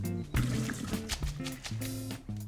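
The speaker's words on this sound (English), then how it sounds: "So, just drain the water from it, and then it's going to go right into that pan with the shrimp" Water from cooked pasta pours and splashes while draining in a kitchen, with irregular gurgling and spattering bursts at close range.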